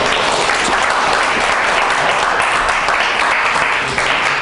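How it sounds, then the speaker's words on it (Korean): A church young adults' group audience applauding at a retreat, dense sustained clapping from a full room that holds steady throughout without any speech on top. "박수 한번 주시죠."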